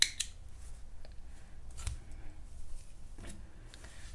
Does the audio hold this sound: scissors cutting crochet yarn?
yes